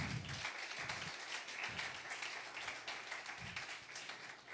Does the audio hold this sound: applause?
yes